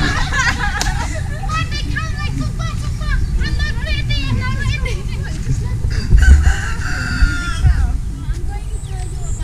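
Roosters crow repeatedly and chickens cluck close by at a rural farmstead near Siem Reap, Cambodia, with people chatting and background babble throughout.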